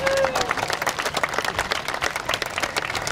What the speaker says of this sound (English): Give her a little round of applause, guys, for her first ever haircut.